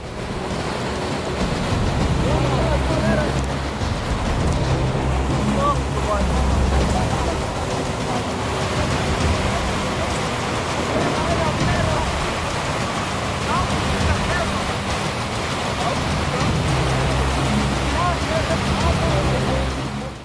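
Rushing river current in Iowa tearing away a structure, a loud continuous wash of turbulent water with no break, with talk over it.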